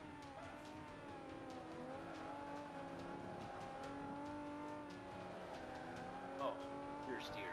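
A car in a racing game tuning challenge understeers, its tires squealing in a wavering whine over a steady engine drone, all fairly faint and distant.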